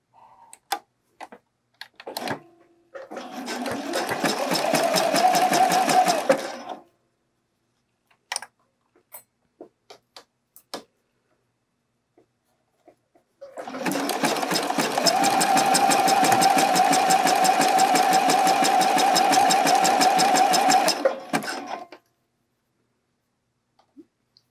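A home sewing machine stitches elastic onto a bralette back strap, running in two sustained bursts of steady mechanical whirring separated by a pause with scattered small clicks and handling taps.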